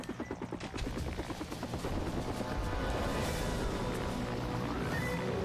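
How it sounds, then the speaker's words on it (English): A helicopter in a video game, its rotor a steady rapid chop that starts in pulses and then thickens into a continuous loud whir with rumbling noise underneath. "This helicopter is the bane of our existence."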